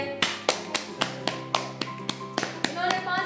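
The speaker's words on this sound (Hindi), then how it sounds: "तालियां हो जाए इनके लिए।" Clapping for the winner of a quiz show for children, a sharp, evenly spaced series of about a dozen claps sounding close and clear, with a faint voice tone underneath.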